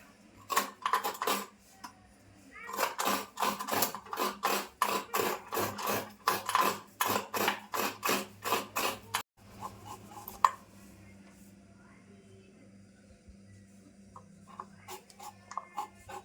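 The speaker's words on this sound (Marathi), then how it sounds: "1 वाटी मी ओला नारळ घेतला, असा मस्त एकदम ओला आहे, ते आता किसून घेते" Fresh, moist coconut grated by hand in a home kitchen, a fast run of loud rhythmic rasping scrapes in two bursts, then quieter sparse scraping with a single sharp knock and faint background noise.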